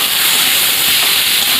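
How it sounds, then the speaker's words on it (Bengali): Boiled chickpeas and potato tipped into a hot frying pan give a steady, loud broadband sizzle and hiss that holds evenly throughout, with no talking over it. "এর মধ্যে আমি সেদ্ধ করে রাখা ছোলা আলুটা দিয়ে দেবো।"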